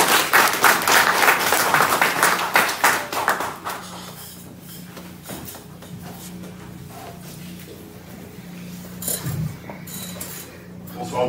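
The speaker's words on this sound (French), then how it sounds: "On applaudit, mesdames et messieurs" An audience applauds at a tribute event, clapping loud and dense at first and then thinning into scattered claps. Low voices and a steady hum continue underneath.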